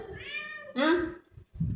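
A cat at a house window gives two close, drawn-out meows, the second louder and rising, followed by soft mouth sounds and a short pause.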